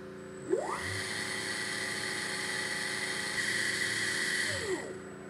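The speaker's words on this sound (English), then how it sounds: "Now the spindle is rotated in the right orientation, let me just try to vary the speed." A 2.2 kW water-cooled CNC spindle driven by a VFD spins up with a rising whine, holds a steady high-pitched hum, then winds down as the speed is changed, close and alone.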